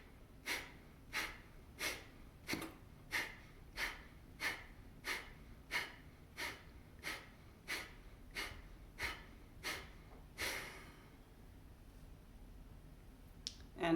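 Kapalabhati yoga breathing, a steady series of about fifteen rapid forceful nasal exhalations at roughly one per second, close and distinct, then a longer release and quiet.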